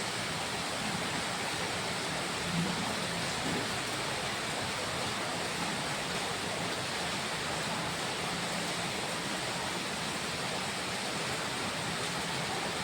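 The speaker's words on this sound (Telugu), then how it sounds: "ఏ లెవెల్లో పడుతుందో వాన అంటే" A constant, heavy roar of pouring rain fills the whole stretch, even and unbroken, with no talking.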